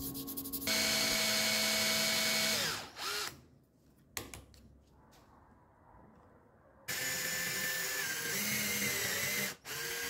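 Thin 2 mm wooden strips are sanded into shape as wall clock hands, giving a loud, close, steady grinding rasp that drops out briefly midway and then resumes. No one talks.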